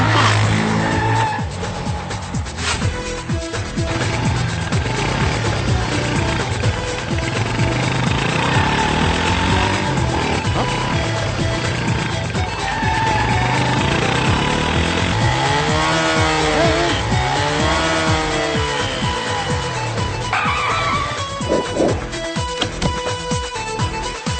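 A hero's motorcycle racing in a Telugu action movie fight scene, a loud, continuous roar of revving engines with repeated swooping tire skids and squeals over a busy soundtrack.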